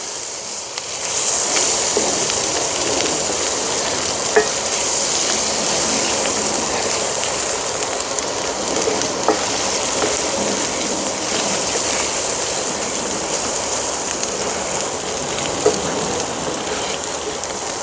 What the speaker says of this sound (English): we're going to go ahead and add in the garlic just to let it go until it begins to bloom